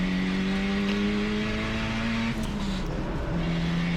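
A race car running its first lap of a German circuit, warming its tyres, with a steady, loud engine drone throughout and a pitch change as it shifts partway through.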